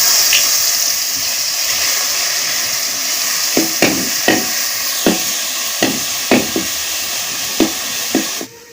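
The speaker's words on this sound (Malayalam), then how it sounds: "ചൂടായ എണ്ണയിലേക്ക് മിക്സിയിൽ അരച്ചെടുത്ത ചേരുവയെല്ലാം ചേർത്ത് കൊടുക്കുക" Ground paste frying in hot coconut oil for a kappa chammanthi, a steady loud sizzle throughout, broken by sharp scraping knocks of stirring at uneven intervals near the end.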